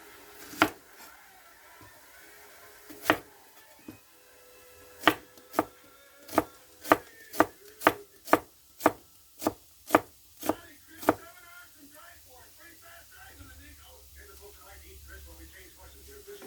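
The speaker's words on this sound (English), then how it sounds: "we're going to go ahead and slice up some purple onion in this" A knife slices through a purple onion on a cutting board, a steady run of sharp, close knocks coming about twice a second, with a few scattered strikes before the run and quieter kitchen sounds after it.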